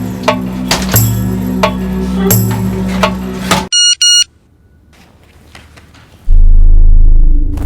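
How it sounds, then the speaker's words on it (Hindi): A mobile phone rings with an incoming call: a brief pair of electronic ring bursts cutting through a loud, busy background, followed by quiet and then a loud low rumble. "यासीन के सेल पर बज रहा है"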